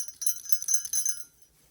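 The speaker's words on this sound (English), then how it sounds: "the bells." Small bells on a gift outfit trimmed with tinsel and little green bows jingle in quick, bright bursts for about a second, then fade to near silence.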